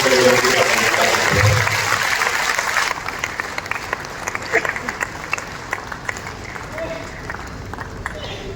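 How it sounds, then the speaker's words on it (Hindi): Audience applause at a ceremonial lamp lighting during a chamber platinum jubilee event in Jamshedpur, a thick wash of crowd clapping that thins after a few seconds into scattered claps with faint murmuring. "हम तालियां बजाएं"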